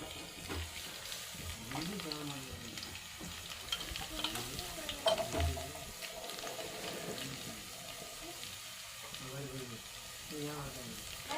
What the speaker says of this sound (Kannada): ಬೆಳ್ಳುಳ್ಳಿ ಅಂತೂ ಕೆಂಪಗಾಲತ್ತ ಭಾಳ ಜಾಸ್ತಿ ಕೆಂಪು ಮಾಡ್ಕೊಂಡಿಲ್ರನು